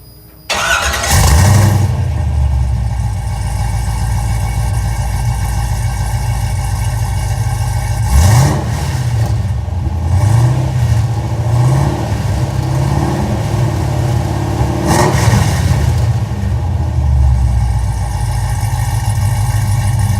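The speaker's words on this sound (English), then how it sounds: "I'll go ahead and fire up the engine right now" A cold 1969 Chevrolet Camaro restomod V8 engine cranks and fires up, settling into a loud rumbling idle, then revs twice in quick surges before dropping back to idle.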